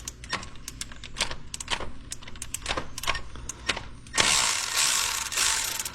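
A ratchet clicks in quick uneven bursts while breaking loose 10mm water pump bolts on a 2010 Ford Explorer 4.6L, close and fairly quiet, ending in a louder rushing hiss, no speech.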